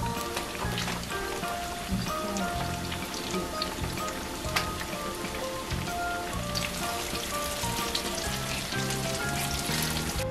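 Battered eggplant deep frying in hot oil, a dense, steady crackling sizzle like rain on a surface, close and even throughout with no voices.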